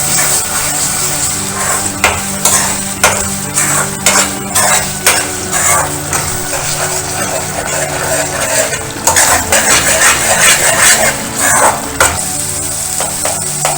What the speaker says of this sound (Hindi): थोड़ा सा मिला लेंगे चम्मच से।